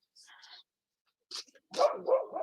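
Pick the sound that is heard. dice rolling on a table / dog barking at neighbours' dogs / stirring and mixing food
dog barking at neighbours' dogs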